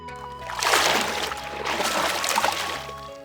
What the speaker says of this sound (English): the gentle slosh of someone stepping into the water of the hot spring